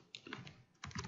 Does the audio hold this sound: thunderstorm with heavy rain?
no